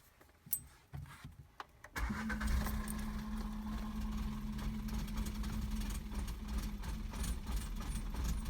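An Audi A3 8V engine cranks and fires after some faint handling clatter, then settles into a steady close idle in an engine bay.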